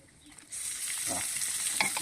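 Beef sizzles steadily in a hot pan, the hiss rising and holding as pieces are stirred, with no voices present.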